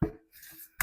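A metal lid pries off a decorative banded tin with a hollow pop at the start, a brief scraping rattle, then a sharp tinny clack as the lid comes free at the end.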